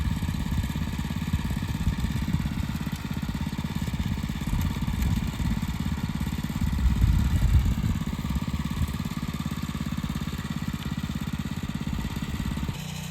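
Tiller engine running on a ranch, a continuous close mechanical drone with a rough, rapidly pulsing low rumble that stays steady throughout.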